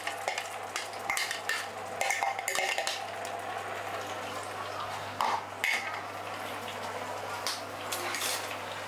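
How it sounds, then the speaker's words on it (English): Sambal sizzles in plenty of oil in a pan over medium heat, a soft steady frying hiss broken by repeated scraping stirs and light utensil clinks against the pan. "So we are going to saute this sambal for a couple of minutes."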